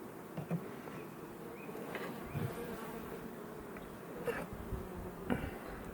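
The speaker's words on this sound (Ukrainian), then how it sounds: "Треба вихвати ще останні дні життя оцих старих бджіл" Old honey bees buzzing steadily close by at a hive, a continuous droning hum with individual bees passing near, no talk.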